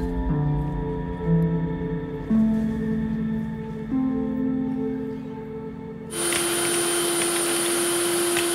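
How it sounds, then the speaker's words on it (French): A vacuum cleaner runs steadily nearby, its motor hum wavering in pitch as it moves, then jumping to a louder, higher whine for the final seconds. "L'aspirateur, il aspire rien du tout."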